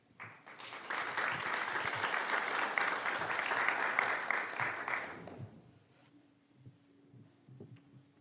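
An audience at a university knowledge and rights conference session claps to welcome speakers, loud sustained applause lasting about five seconds before fading into a quiet room hum.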